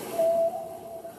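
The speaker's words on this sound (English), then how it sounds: "That's a whale singing." A whale sings in the ocean, one faint sustained tonal moan that holds steady for about a second.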